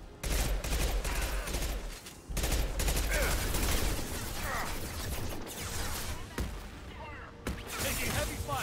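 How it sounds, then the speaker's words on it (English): Sustained gunfire from a Mass Effect 2 combat firefight, dense bursts of shots and impacts layered with game effects, loud and continuous with brief lulls. "Taking heavy fire."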